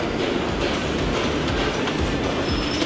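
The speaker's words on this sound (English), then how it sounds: "Let's go get on train number 1 to downtown." Steady, loud rumble of a number 1 subway train running toward downtown, with dense low-frequency roar and rattling wheels throughout, no talking.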